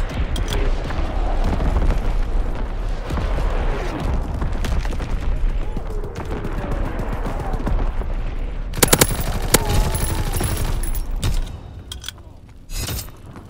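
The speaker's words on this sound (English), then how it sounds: "Firing primary battery." Naval primary battery bombardment in Call of Duty WWII on Sainte Marie du Mont: a loud, dense barrage of booming blasts and rattling gunfire rolls on continuously, with sharp cracking impacts near the end.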